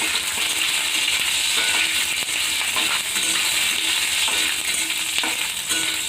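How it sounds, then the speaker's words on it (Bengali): Cashew nuts frying in white oil in a pan, a steady dense sizzle with bright crackling and occasional light clinks of a stirring utensil, close and continuous throughout. "এইখানে আমি কাজু বাদামটা ভেজে নেব"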